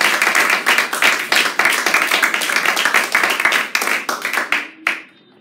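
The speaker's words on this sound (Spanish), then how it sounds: "Si ese aplauso es para el Señor," Congregation clapping during a church service, loud sustained hand claps from a crowd that fade out quickly near the end.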